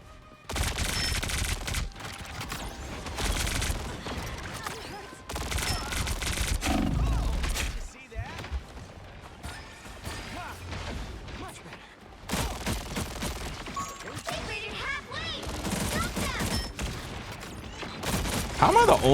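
Rapid bursts of gunfire fill a hero-shooter video game match, loud and sustained in long volleys broken by short pauses.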